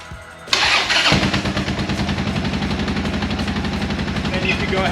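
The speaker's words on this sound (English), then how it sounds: "we're just gonna go ahead and start the bike and see if it's charging" A Buell motorcycle with a charging-system fault cranks briefly, then its engine catches and settles into a loud, steady, lumpy idle close by.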